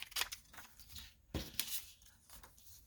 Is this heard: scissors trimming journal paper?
yes